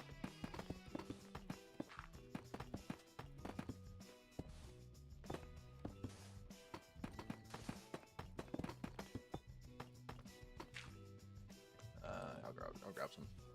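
Horse hooves clip-clop in a video game while a steady musical soundtrack plays throughout, with the hoofbeats mixed in among the music and a voice talking over parts of it.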